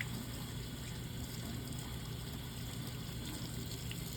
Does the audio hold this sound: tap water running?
yes